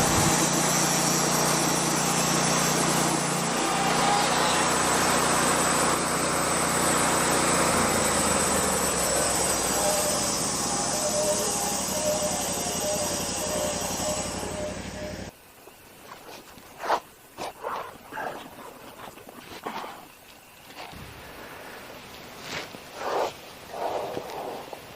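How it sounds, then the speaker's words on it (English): Sawmill cutting a cedar cant in half: a loud continuous engine-driven saw whine with a grinding cutting tone runs for about fifteen seconds, then cuts off, leaving scattered clunks, knocks and handling noises nearby. "We'll make our cut there. It'll cut the cant right in half"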